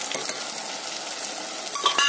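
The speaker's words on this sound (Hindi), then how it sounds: "टमाटर को भी थोड़ा सा भून लेना है" Chopped tomatoes frying with turmeric, coriander, chili and salt in a pan, a continuous dense sizzle heard up close, with a couple of light utensil knocks near the end.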